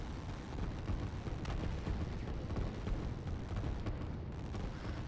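Artillery fire in the strategy video game Line War, a dense, continuous rumble of overlapping booms and blasts filling the background without any clear single shot.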